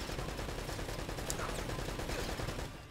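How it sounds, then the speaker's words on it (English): Enemy gunfire in the video game Uncharted: Drake's Fortune, a dense, rapid automatic burst of shots rattling continuously at moderate loudness with no talk over it, tapering slightly at the end. "Sound like they have a really high rate of fire compared to ours, but they've got the same weapons."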